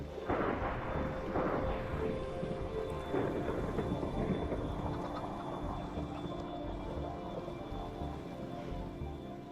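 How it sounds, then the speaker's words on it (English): Rumbling thunder rolls continuously through a stormy modded Minecraft world, a loud, sustained low roar with crackling bursts near the start and steady rain-like hiss underneath. "You're a tiny bit hard to over the in-game thunder."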